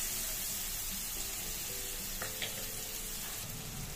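Onions frying in a pan with pointed gourd, a soft steady sizzle at moderate distance with a couple of faint utensil clicks, no speech.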